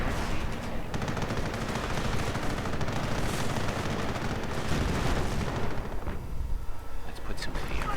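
Gunfire and exploding booby traps fill a WWII real-time strategy game battle, with dense, continuous rattling shots and booms under talk throughout.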